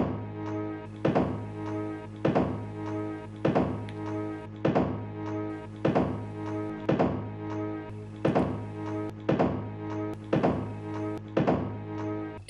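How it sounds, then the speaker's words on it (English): A baseball bouncing repeatedly, as in the film The Great Escape, giving a string of dull thunks at a steady rhythm of roughly one per second, close and clear with a faint echoing tail after each hit. "The sound of that fucking baseball."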